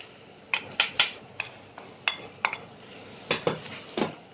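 Spices being stirred and roasted in a pan for an aloo baingan dish, heard as a series of sharp metal clinks and scrapes of a spoon against the pan over a faint sizzle.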